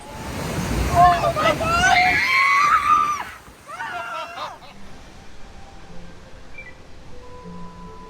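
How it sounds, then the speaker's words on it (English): Grizzly Peak's rafting ride at Disney California Adventure, styled after Yosemite, churns and splashes loudly for about three seconds as rafts pass through rushing water. Shrieks and voices ride over it, and then it fades to quieter background murmur. "So here's one of the rides. It's a rafting ride"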